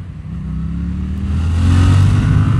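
Yamaha MT-07 motorcycle engine on a test ride, a steady close drone that swells into a louder, higher rev toward the end.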